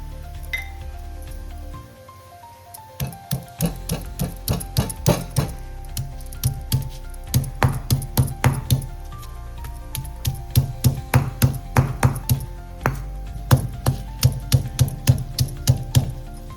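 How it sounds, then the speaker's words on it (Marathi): Ginger and garlic being pounded for a traditional Koli-style dry clam masala, a steady run of sharp, close thuds and clinks in an even rhythm after a brief quiet start. "तोपर्यंत आपण आलं आणि लसूण ठेसून घेऊया"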